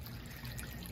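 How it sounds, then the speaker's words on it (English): Water runs steadily into a jacuzzi at a vacation spot in Mexico, filling it slowly with water that is not hot. It makes a constant close rushing trickle with no breaks and no voices. "Came to fill up the jacuzzi"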